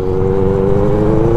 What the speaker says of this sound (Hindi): एकदम से मतलब पिकअप पकड़ रही है बाइक